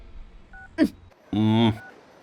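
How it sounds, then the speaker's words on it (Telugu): A telephone gives a single steady ring tone, clear and close, for an incoming call from a lawyer, preceded by a short tone and a brief vocal sound. "ఇదిగో లాయర్ ఫోన్ చేస్తున్నాడు"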